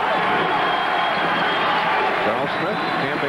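Dense, roaring basketball crowd noise at Boston Garden during a 1987 Pitt Panthers at Boston College Eagles game, steady and loud throughout, with faint announcer-like talk mixed in.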